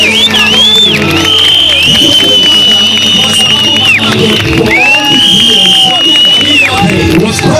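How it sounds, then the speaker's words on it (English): A congregation at a large healing service in Eldoret, Kenya breaks into loud cheering, shrill whoops and ululating cries over a roaring crowd. Clapping blends into the dense, close, continuous noise. "Let us bless Jesus with a loud clap of applause."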